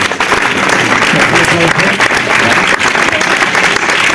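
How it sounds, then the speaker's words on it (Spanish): Loud audience applause at a screenwriting pitch event, dense steady clapping filling the whole stretch without a break. "quiero pedir un gran aplauso para acá"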